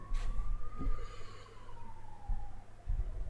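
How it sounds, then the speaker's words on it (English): An ambulance siren passes outside, a faint wailing tone that slowly rises and falls, heard at a distance through an open window over low background rumble and a few soft knocks. "Ambulance, our first ambulance of the week on the way."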